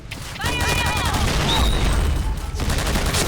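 Rapid bursts of L86 LSW light support weapon fire in the online shooter Point Blank, loud and close, running continuously under a game voice and background effects.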